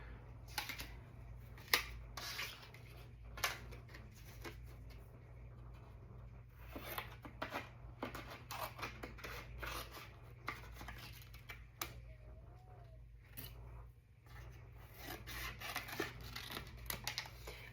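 Scissors trim sheets of designer cardstock for a crafting project in a series of soft, irregular snips and paper rustles, close and quiet, with brief pauses between cuts.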